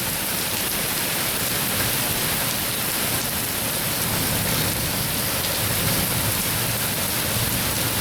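Heavy, steady downpour blowing sideways, roaring without a break, a dense wash of rain noise with gusty swells of wind throughout.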